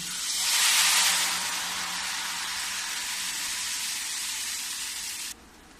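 Ghewar batter poured into hot oil, sizzling loudly at first and then settling into a steady hiss of frying that cuts off abruptly near the end.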